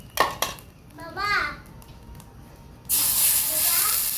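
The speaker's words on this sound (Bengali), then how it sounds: "খুব দ্রুত নুডলস ভাজা হচ্ছে দেখেন।" Noodles hit hot oil and burst into a loud, sustained sizzle partway through, after a voice and some clattering of cookware.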